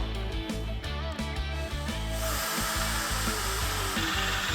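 A power drill bores a hole for a car roof rack base, a loud continuous whirring grind with a few brief dips early on, then a steadier, harsher cutting noise, close and without voices.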